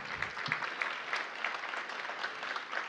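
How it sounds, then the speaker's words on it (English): Applause from a breakfast event audience, moderately loud clapping from a modest crowd with distinct individual claps, continuous and without talk. "So give them a big round of applause."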